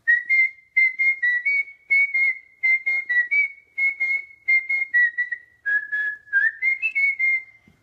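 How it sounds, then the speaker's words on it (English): A person whistles a simple song melody in short, evenly spaced bursts, a clear, steady tone carried alone with no talking, repeating phrase after phrase. "this is the person whistling the song."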